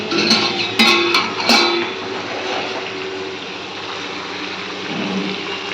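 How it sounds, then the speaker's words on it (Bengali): Hot water pours into a fish curry in a pan with a broad, rushing splash that hisses steadily, sharp clinks at the start, then settling into a softer continuous gurgle. "এই যে জল গরম বসিয়েছিলাম, এবার এটা ঢেলে দেবো।"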